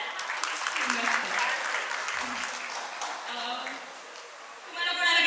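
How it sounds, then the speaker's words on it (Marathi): Applause from a small group of guests at a traditional baby shower, a steady soft patter of hands clapping with voices chattering over it, then a brighter burst near the end. "अरे वा, टाळ्या."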